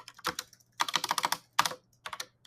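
Fingers type on a computer keyboard while composing a tweet, producing quick bursts of close, crisp key clicks separated by short pauses, in a quiet room with a faint steady hum.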